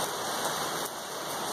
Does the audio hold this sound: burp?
no